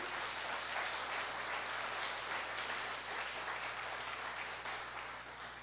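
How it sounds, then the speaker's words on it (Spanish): A church congregation at a family worship service applauds loudly and steadily for several seconds, a dense continuous wash of clapping without a break. "Dale un fuerte aplauso al Señor"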